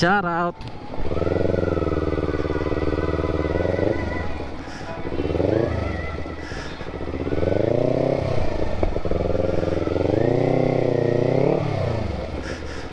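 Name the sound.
motorcycle engine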